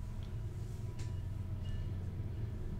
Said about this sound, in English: You guys can hear the train that I live next to.